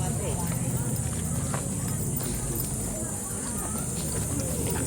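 Steady clopping of horse hooves on pavement, moderately close, with people chattering in the background throughout.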